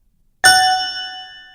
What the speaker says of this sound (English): listen for the bells